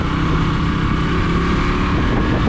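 A KTM Duke 200 motorcycle rides along with a continuous loud engine drone mixed with wind rush. It is steady and close throughout, with no talking.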